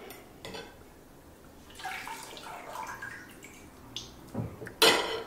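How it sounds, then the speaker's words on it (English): Sanitized tongs lift four corn cobs out of a pot of fermenting corn wine, with wet clinks, splashes and drips of liquid, ending in a sharper metallic knock and splash close by. "Let's go ahead and remove those four corn cobs that we put in the day before"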